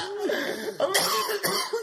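A burst of harsh coughing, several rough hacks in quick succession, close and loud.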